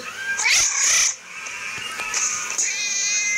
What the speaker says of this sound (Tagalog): Meow kitten.